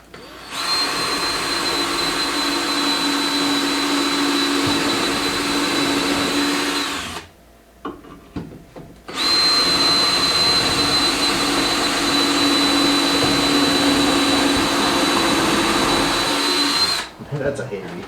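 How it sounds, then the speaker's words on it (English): A drill boring through a heavy steel board for a custom bar footrest, a loud steady high-pitched whine that runs for about seven seconds, pauses briefly, then resumes for another eight seconds. "Drilling through damn steel"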